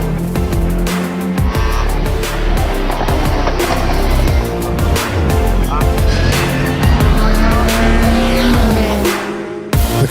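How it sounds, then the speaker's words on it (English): A powerful race car at a British hillclimb event sounds loud and near, with engine revs rising and falling through repeated gear changes, sharp bursts and howling pitch sweeps, and a brief drop near the end. "The contest for the title of British Hillclimb Champion is dominated by powerful race cars, with reigning champion Wallace Menzies"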